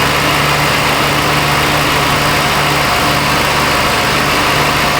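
A 2007 Chevy Silverado 1500 Classic, showing rich fuel codes, idles while warming up, a loud steady engine hum with no change throughout.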